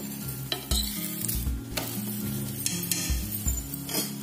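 Aloo paratha frying in ghee on a hot tawa, a steady close sizzle with repeated scraping and tapping of a metal spoon or spatula against the pan as it is pressed.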